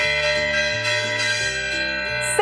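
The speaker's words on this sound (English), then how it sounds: "you must have a very good metal gong, which has a strong bronze element in this gong" A bronze metal gong rings with sustained, shimmering tones that change pitch a few times and hold steady, loud and close, with no talking.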